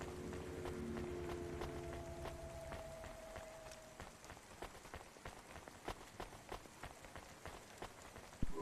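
Rain in the video game Cloudpunk, soft pattering drops over a tonal hum early on, then scattered sharper taps continuing alone at a quiet level.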